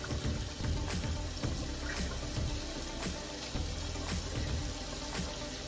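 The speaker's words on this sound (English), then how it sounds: "I'm making sure I rinse them off because I don't want no grit" Leafy greens rinsed under a running kitchen tap, a steady close rush of water with irregular splashes and pattering as the leaves are handled and turned, no speech.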